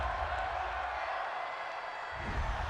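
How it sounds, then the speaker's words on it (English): A large stadium crowd at an NFL football game between the Cincinnati Bengals and Houston Texans reacts to a roughing-the-passer penalty, a broad sustained roar and murmur from far off with a low rumble building toward the end. "this crowd does not like that call"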